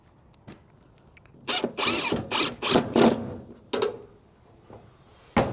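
A power drill driving a screw with a washer whirs in a series of short bursts, several quick pulses in a row, close and fairly loud, with quiet pauses before and after.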